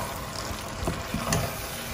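Okongobong soup of ugu and egusi with crayfish is stirred in a pot, giving a soft, close bubbling and scraping for a couple of seconds.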